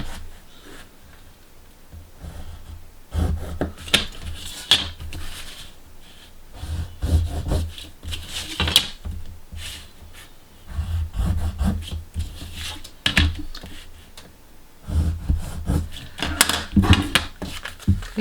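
A craft knife is drawn along a ruler to score diagonal folds into paper for a folded watercolour box, making repeated close scratching strokes in irregular bursts with short pauses between them.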